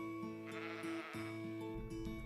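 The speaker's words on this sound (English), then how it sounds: "Wojtek Benker and his sheepdog Ziggy look after 300 sheep on this 300-acre farm he manages in Herefordshire." Several sheep on a 300-acre farm in Herefordshire bleat in overlapping, wavering calls, fairly close and continuous, with no talking.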